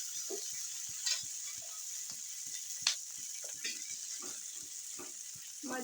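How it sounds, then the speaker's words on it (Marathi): Finely chopped onions fry in a spoonful of oil in a pan, a steady faint sizzle with soft scattered stirring clicks and taps throughout. "कांदे चिरलेले आहे बारीक, ते भाजून घेऊया. 1 चम्मच तेल घालूया."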